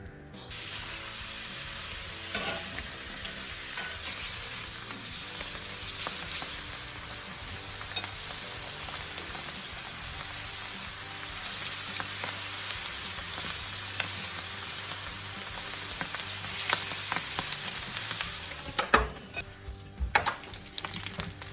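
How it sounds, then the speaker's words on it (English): Bacon strips sizzle and fry steadily on a Kamado Joe grill: a continuous bright crackling hiss for about twenty seconds, with occasional small pops and scrapes near the end and no voices. "we'll just whack some bacon on"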